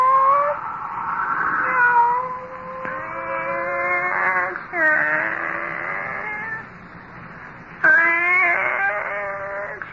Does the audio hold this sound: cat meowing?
yes